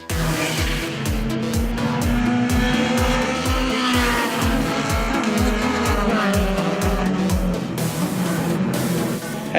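Modified saloon cars from the super modified and A, B and C classes race on a circuit, several engines roaring together with rhythmic pulsing, shifting pitch as they pass, loud and continuous with no voices.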